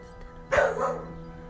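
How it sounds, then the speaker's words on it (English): A single sharp dog bark rings out at mid-distance in an otherwise quiet moment, a short, bright yelp that fades quickly. "I hear her barking."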